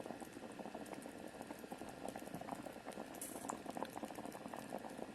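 Oats with a pinch of turmeric powder boil steadily in water in an electric kettle, a dense, continuous bubbling and gurgling close by, with no talking.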